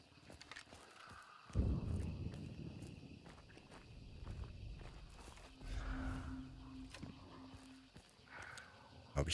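Horse in the video game Hunt: Showdown, hooves thudding and clip-clopping at moderate distance alongside footsteps and low farm-animal sounds, fairly faint under game ambience.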